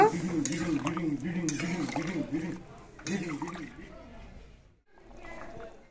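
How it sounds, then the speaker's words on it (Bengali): A spoon stirs potatoes with freshly added water in a metal pot while cooking Bengali aloo dum: close scraping and clanking of utensil on pot in repeated strokes, with someone speaking over it. "এবার দিয়ে দেব আমি জল। জল দিয়ে একটু ভালো করে নেড়ে নেব।"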